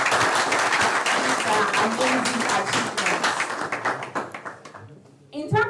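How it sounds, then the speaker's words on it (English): Audience applauding a speaker at an academic event, steady dense clapping that gradually thins and fades, with a voice speaking over it and a brief burst of sound at the end. "Please, let's clap for him"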